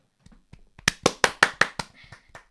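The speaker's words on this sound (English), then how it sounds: "I'm clapping for you." Hand clapping, about six sharp claps in a steady rhythm, close and fairly loud, with softer taps before and after and no talking.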